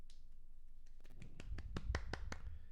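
A rapid burst of about eight sharp hand claps in a quick, even rhythm, close by and alone after a quiet start.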